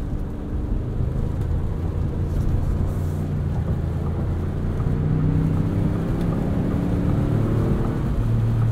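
A 2022 Ford Expedition Platinum with the 3.5 EcoBoost engine drives along, giving a steady low engine drone and road rumble from inside the cabin, with a gentle rise in pitch as it pulls.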